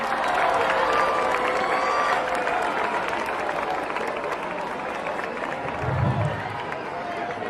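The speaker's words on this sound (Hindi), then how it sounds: "आप लोगों से अनुरोध है कि जोरदार तालियों से आप स्वागत करें" A large school audience at a motivational spiritual gathering breaks into sustained clapping to welcome guests, a dense, steady wash of applause with crowd murmur mixed in, swelling briefly near the end.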